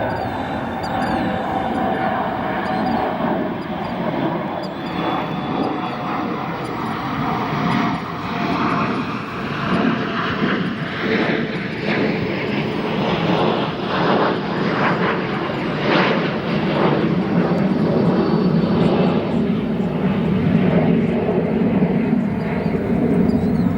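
An Embraer E-170 jet arrives on runway 27 Center at O'Hare, its engine rumble rising and swelling steadily while someone talks over it.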